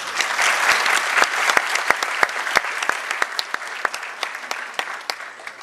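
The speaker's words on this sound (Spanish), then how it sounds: "Recibámosla con un caluroso aplauso." Audience applause fills a lecture hall at a commemorative event on agrarian reform, steady dense clapping with sharp individual claps standing out, continuous and fairly loud throughout.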